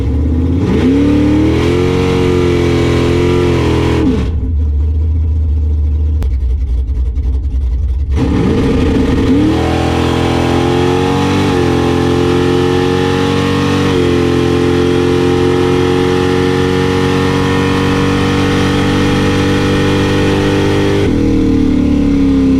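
A drag race car engine roars loud and close through a launch test run, holding high revs, briefly dropping to a low rumble, then revving hard again for a long sustained pull.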